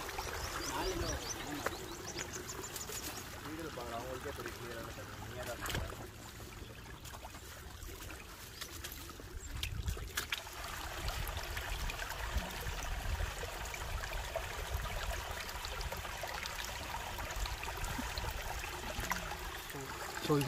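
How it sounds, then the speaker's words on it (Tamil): A hillside stream runs downhill along a trekking path near a hilltop temple at Acharapakkam, making a steady, faint rushing trickle that continues throughout with a few soft bumps and handling noises. "இந்த தண்ணி அப்படியே கீழே போயிட்டுருக்கு."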